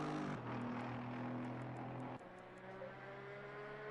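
GT4 race car engine in Assetto Corsa Competizione at Laguna Seca, a steady droning whine that shifts pitch abruptly as the car changes gear, quiet and continuous with no talk.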